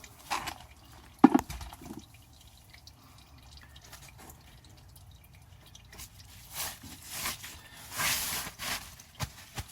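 Transmission fluid drains from a 2005 Toyota Prius during a fluid change, giving faint, irregular drips and trickles at close range, with a few louder splashes early on and a busier stretch of liquid noise near the end.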